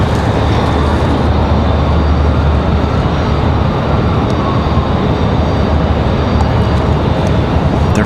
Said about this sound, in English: Southwest coming in over there on the other side. They're about to touch down already.